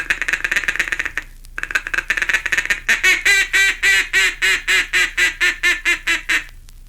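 Duck call imitating a mallard's feeding chuckle and quacks: a rapid chattering run, then a steady, loud series of about a dozen evenly spaced quacks, close and alone without talk.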